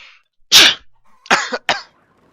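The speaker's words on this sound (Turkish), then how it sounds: "hem hapşırdım hem öksürdüm ya" A loud, close sneeze is followed by two sharp coughs in quick succession, with a faint voice at the start.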